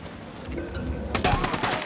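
Submachine gun fire in a shooter video game. A rapid burst of shots rattles in the second half over a low rumble. Muffled speech can be heard beneath it.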